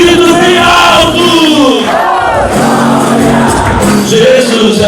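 A church congregation shouts and cries out loudly together. The voices overlap in a dense, sustained roar with rising and falling pitches throughout.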